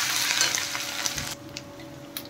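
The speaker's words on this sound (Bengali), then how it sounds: "এখন আমি দিয়ে দিচ্ছি দেখেন রসুন আদা একটু নেড়ে দিলাম" Garlic and ginger frying in a pan for an urad dal tarka, stirred briefly; a close bright sizzle with light scraping fades to a quieter hiss midway, ending with a faint clink.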